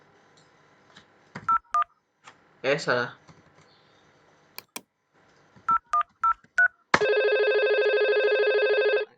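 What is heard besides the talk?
IP phone dialing tones in Packet Tracer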